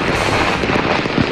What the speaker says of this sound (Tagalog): Nagningning ang kalangitan kagabi dahil sa makukulay na fireworks bilang pagsalubong sa bagong taon.